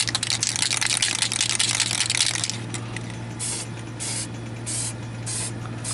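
Spray paint in candy colors hissing onto a radio-controlled car body, a steady loud spray for a couple of seconds, then shorter pulsed bursts from the can, close up and alone.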